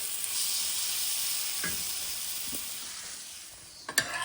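Prawns sizzling in a frying pan, a continuous close hiss of hot oil that eases off slightly before a couple of sharp clinks near the end.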